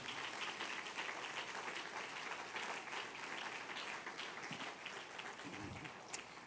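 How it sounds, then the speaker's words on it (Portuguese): A church congregation at a Portuguese-language service claps in a sustained, fairly faint round of applause that lasts the whole stretch, with some voices mixed in. "dá uma linda salva de palmas ao Senhor"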